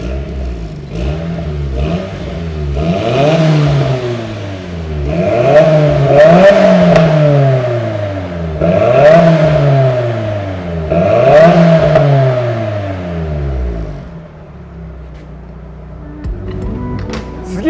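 Nissan 180SX RPS13 with a DMAX dual front pipe, stock catalytic converter and APEXi rear muffler, revved in four or five rising and falling bursts, loud and close, before settling back to idle.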